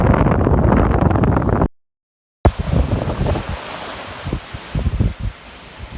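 Surf and gusting wind at the seashore roar loudly and steadily, broken by a short silent gap, then return with rushing waves and wind buffeting the microphone.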